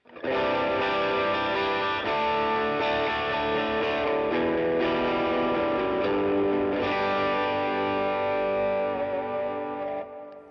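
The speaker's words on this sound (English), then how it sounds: "let's go with this first Overdrive, and it sounds something like this" A distorted electric guitar plays through the first overdrive pedal on a budget pedalboard, one continuous run of gritty, sustained chords and notes that fades out at the end.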